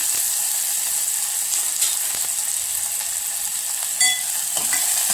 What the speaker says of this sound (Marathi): तेल गरम झालेलं आहे. तर कांदा टाकूया. कांदा व्यवस्थित भाजून घ्यायचा.